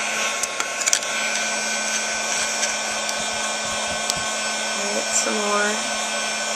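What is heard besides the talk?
hair dryer heating and drying a bird's nest shape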